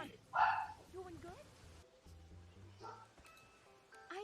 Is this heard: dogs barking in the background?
yes